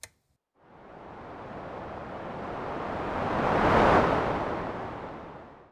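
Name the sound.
pink noise from Elta Music Polyvox PF3 filter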